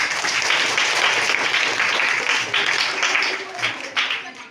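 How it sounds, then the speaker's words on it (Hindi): Applause from an audience at a school Teachers' Day event after a child's speech, a busy spread of clapping that holds steady, then thins and flares near the end, with faint voices underneath. "जोरदार ताली।"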